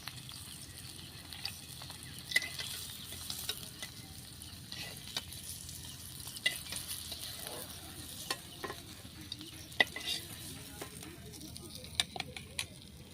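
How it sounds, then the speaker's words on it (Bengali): Fish pieces fry in oil with a faint, continuous sizzle and scattered small pops and clicks of utensils, fairly quiet and without talking. "আর যে দুটো মাছ থাকলো একইভাবে ভেজে নেব"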